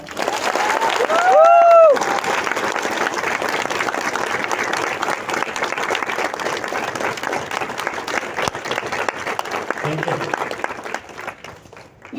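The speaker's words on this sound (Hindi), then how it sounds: "जबरदस्त, ताली बजा के बताओ।" Workshop participants in Udaipur break into sustained applause after a guided visualization exercise, a dense, steady patter of many hands filling the room for about ten seconds, with a brief voice at the start and the clapping thinning out near the end.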